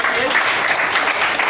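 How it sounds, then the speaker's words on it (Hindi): Applause for a senior doctor at a Hindi-speaking gathering, a steady dense clatter of many hands filling the moment, with a voice talking over it. "इनके लिए जोरदार तालियां होनी चाहिए।"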